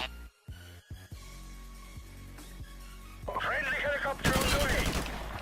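A Red Tiger AK-47 tap-fired in the video game Modern Warfare Remastered, a few short bursts of gunfire in the second half against quieter game ambience with other shots around.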